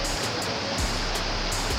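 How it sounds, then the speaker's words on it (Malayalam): Snow collapsing in the mountains of Torres del Paine, Chile, near a river, comes through as a steady, broad rushing roar like falling water, continuous and fairly loud for about two seconds with no voices. "മഞ്ഞിടിഞ്ഞ് വീഴുന്നതാണ് കാണുന്നത്."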